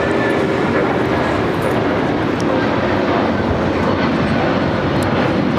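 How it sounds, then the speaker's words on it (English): A United Airlines Boeing 757-200 takes off at LAX bound for Newark, its engines a loud, steady broadband roar that fills the scene without pause. "This is United Airlines 1981 taking off to Newark on the 757-200"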